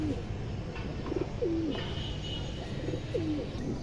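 Giribaz club pigeons coo softly at a pigeon club loft, with several low rolling coos repeating over a constant background hiss.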